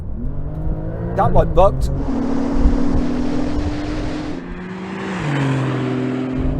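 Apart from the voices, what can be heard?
Porsche 911 Turbo S accelerating at full throttle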